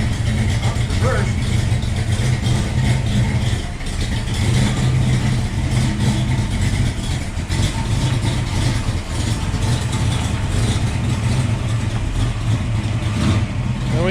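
A 1967 Mustang GT with a 347 stroker engine on the move gives a loud, continuous low rumble with road and wind noise, steady from start to finish.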